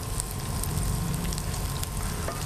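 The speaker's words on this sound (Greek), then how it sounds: "Ανακατεύουμε να σοταριστεί." Food sizzling and frying in a pot while it is stirred and sautéed, a steady close crackle and hiss with no talk.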